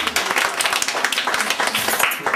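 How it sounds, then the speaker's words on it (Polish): Audience applause at a charity concert event, a couple of seconds of loud, uneven clapping filling the room, with no talk over it. "Brawa."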